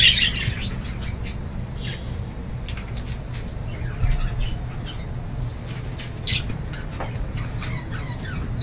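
Budgerigars in a home aviary setup chirping, with scattered short high tweets over a steady low background hum, moderately near and fairly faint.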